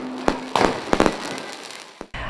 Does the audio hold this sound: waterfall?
no